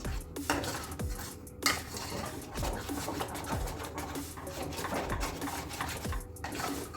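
Halwa mixture being stirred after red food colour is poured in, a spoon scraping and clinking steadily against the pan in repeated rhythmic strokes, close and moderately loud, with no talking.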